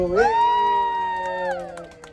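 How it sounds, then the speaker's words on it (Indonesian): At a Bangkok testimonial event, the crowd answers with a rising whoop that holds as a long sustained cheer, then trails off, with a few sharp claps breaking through toward the end. "Aplaus yang meriah sekali lagi Bapak Ibu"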